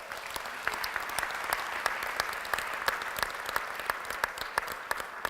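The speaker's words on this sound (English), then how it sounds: "Please give him another round of applause." An awards audience for the 100 Black Men of America applauds chairman Thomas Wesley Dortch Jr., with sharp individual claps standing out from a steady ovation that carries evenly throughout and has no talk.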